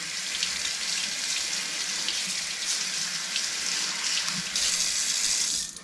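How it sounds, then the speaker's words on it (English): Tap water runs steadily into a kitchen sink as mushrooms are rinsed under the stream, a continuous close hiss that swells slightly near the end, with no talking. "run them under the sink like this"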